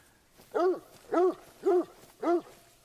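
A hunting dog in theHunter: Call of the Wild on Layton Lake barks four times in a steady, evenly spaced rhythm, close and clear with no talk.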